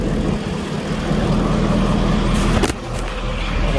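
A 2012 Ford F-550 Altec bucket truck idles, heard close at the exhaust pipe: a loud, steady low rumble with a brief handling bump near the end.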